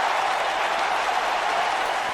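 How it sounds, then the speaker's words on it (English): Wrestling crowd cheering and applauding in an arena during a women's match, a dense continuous roar of claps and shouts at steady loudness. "The crowd on their feet for Toshimi."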